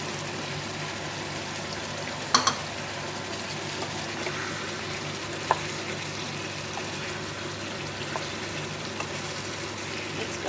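Potatoes fry in chicken gravy with a faint, continuous soft sizzle and bubbling, broken by a few small clicks and clatters from a pan or utensil.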